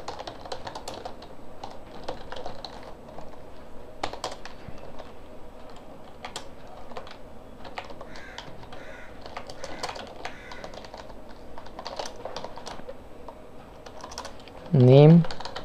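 Someone types code on a computer keyboard in a steady stream of light, close clicking keystrokes that runs the whole way through. A voice cuts in briefly at the end.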